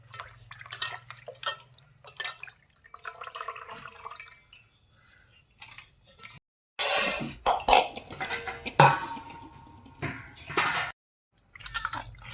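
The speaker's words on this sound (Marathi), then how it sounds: "आता हे मासा चांगला धुवून घेऊ आपण स्वच्छ पाण्याने" Fish being rubbed and rinsed in clean water in a home kitchen, with scattered drips, splashes and soft clinks of a pot or plate, intermittent and close, with quiet gaps between bursts.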